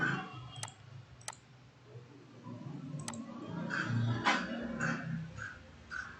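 Sharp computer mouse clicks sound while setting up a screen capture in an instant meeting, a few isolated taps spaced out over quiet room tone with faint background murmur.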